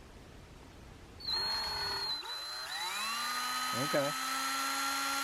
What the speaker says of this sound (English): Basically what you want to do is take that rivet and just drill out the top of it.